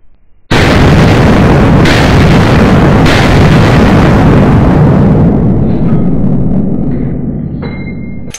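A loud, continuous burst of gunfire from a Steyr M9A1 9x19 pistol, shots blurring together in rapid succession at close range for several seconds before tapering off, with no talk.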